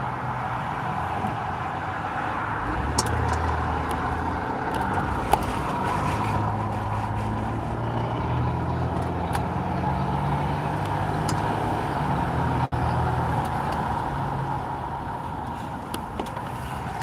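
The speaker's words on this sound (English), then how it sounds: "That's just traffic. This is on a major highway, so there's a lot of traffic here." Steady roar of heavy traffic on a major highway, heard continuously and fairly loud from start to finish, with a few brief faint clicks and no voices.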